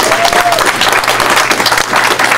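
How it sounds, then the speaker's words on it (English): Loud, dense applause from an awards-ceremony audience, continuous clapping filling the room close by for the whole stretch. "Lord Bobbins deserves a round of applause for, I believe, 7 awards tonight"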